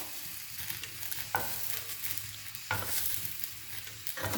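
Onion and garlic grilling in a pan for tacos de carnitas, a low steady sizzle with a few sharp scraping stirs, faint and alone.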